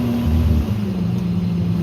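A V6 Dodge Challenger's engine drones low and steady at close range while the tyres break loose and lose traction, a continuous rumbling roar with no voices.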